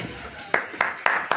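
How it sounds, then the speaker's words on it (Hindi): Hand claps at a community gathering in Meerut, four sharp, evenly spaced claps about a quarter second apart over a murmuring background. "भाई जोरदार तालियां"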